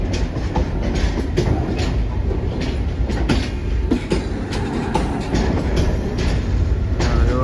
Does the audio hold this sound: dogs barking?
no